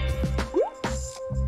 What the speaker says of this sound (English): Now for the food coloring. I'll just pour some of it into the bottle.